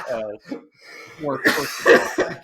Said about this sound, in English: Oh man, it made myself cough.